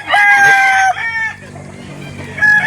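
A Boston-bloodline gamefowl rooster crows loudly and close by at a chicken market in Calauan, Laguna. One long crow breaks off, and another begins just at the end.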